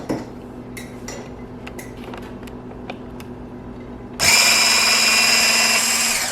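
A Kelitos hand blender motor mixing sugar into a solution, starting with faint clicks and handling, then switching on abruptly into a loud, steady high-pitched whir that runs alone for two seconds.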